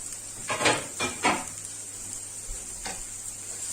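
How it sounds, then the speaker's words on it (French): Fresh mushrooms cooking in a pan give a soft, steady sizzle up close, broken by a few short utensil scrapes and stirs. "Donc, je laisse cuire les champignons"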